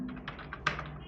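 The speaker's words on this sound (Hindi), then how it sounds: "लाइक मान लीजिए हम यहाँ पास टाइप करते हैं" Soft, quick keystrokes on a computer keyboard, a short run of light taps with one slightly louder click, heard close and quiet over a faint hum.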